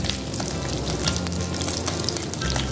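Mourola fish sizzling steadily in hot oil for a Bengali chorchori, a dense continuous crackle close by with no pauses and no voices.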